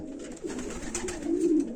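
Pigeons coo softly nearby, low throaty burbling calls over a faint background hum, one rolling coo rising toward the end.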